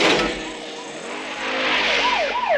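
Car chase crash scene from the 1982 film Rambo, with a loud, steady engine roar and whooshing motion noise filling the whole stretch alongside swooping tonal effects, without talk.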